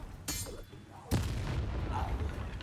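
Bombarda blasting spell from Hogwarts Legacy, two sharp booming bursts a moment apart, the second louder with a rumbling tail, close and punchy.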